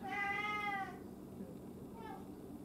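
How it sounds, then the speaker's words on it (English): A domestic cat lets out one clear, drawn-out meow close by, followed a moment later by a shorter, softer second meow, with quiet room noise between them. "Cat."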